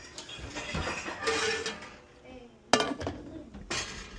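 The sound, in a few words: pots and black iron skillet handled inside oven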